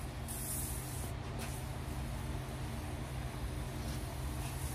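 A pressure sprayer washes down a dirty transmission, producing a continuous loud hiss of spray with a few brief shifts in tone as the stream moves.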